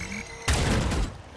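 A sudden booming blast from a green explosive in the game Valorant, on the map Lotus, hits after a brief quiet stretch, then rumbles and crackles for about half a second before easing off.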